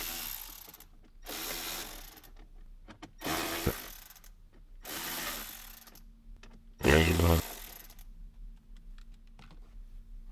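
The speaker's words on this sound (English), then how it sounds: "Just the same 4 bolts, using a T30 to remove that." Torx T30 driver backing out the four bolts of a grab handle inside a 2021 Ford Bronco, with a few bursts of close ratcheting clicks separated by pauses.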